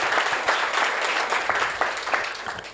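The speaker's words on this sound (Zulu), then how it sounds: "Nilishaya kancane ihlombe kukhulu kakhulu sekushiya" Steady applause from an audience at a religious college event, a continuous wash of clapping with rhythmic peaks, fairly close and moderately loud, with no voices over it.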